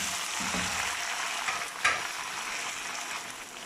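Tomatoes frying in a pan, a steady hissing sizzle with a soft stirring scrape and one brief clack, heard close and alone.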